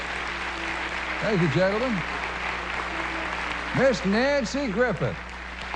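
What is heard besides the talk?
studio audience applauding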